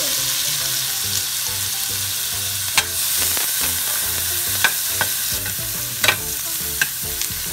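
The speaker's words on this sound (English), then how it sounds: "You want to saute this for about 5 minutes." Chopped onion and minced garlic sauté in a hot pan with a steady, close sizzle, broken by a few sharp scrapes and taps of a spoon stirring.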